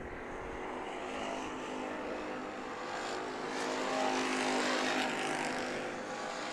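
Race cars roar around the track at Perris Auto Speedway during heat races, a dense, steady engine drone that swells slightly as the cars accelerate, with a loud, continuous crowd of motors and no talking.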